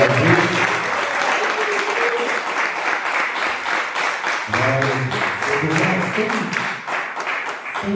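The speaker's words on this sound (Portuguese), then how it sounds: "Só quem está feliz com Jesus deu uma salva de palmas bem forte para ele." A youth church congregation breaks into loud, sustained applause, dense and continuous throughout, with voices cheering beneath it.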